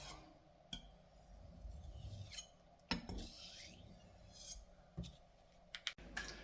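Knife blade rubbing across a 400 grit sharpening stone, quiet repeated gritty rasping strokes with small clicks and taps between passes, close and faint with no voices.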